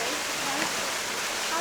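A waterfall tumbles into a gorge pool beneath cliffs at Karijini, giving a steady, dense rushing wash of water with no breaks, with a voice faintly present beneath it.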